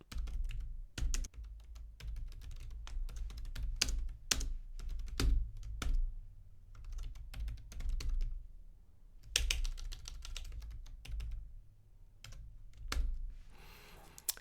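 Dense, steady typing on a computer keyboard while writing Lua code, with rapid clustered keystrokes and short pauses between bursts, close and clear with no talking.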